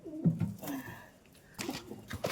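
Pigeons kept at home give soft, low coos close by, several short warbling calls in two bursts with a brief pause between them.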